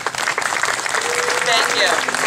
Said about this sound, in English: I need you all to give an applause for you.